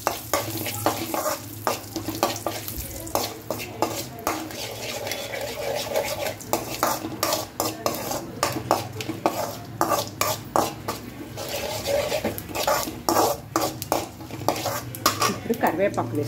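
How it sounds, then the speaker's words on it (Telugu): A tempering of asafoetida, black pepper and cumin frying in hot oil for millet pongal. A soft, continuous sizzle sits under repeated metal scrapes and clinks of a spoon stirring in the pan, close and busy throughout. "తర్వాత ఇంగువ, బాగా కాలాలండి మిరియాలు జీలకర్ర."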